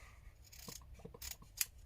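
Scissors make a few quiet, close snips and a brief rustle in a calm, otherwise silent room.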